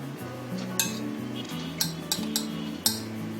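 Steamed momos being served out onto a plate, with a handful of light metallic clinks and taps of utensils against dishes over a low steady hum, spaced irregularly across a few seconds.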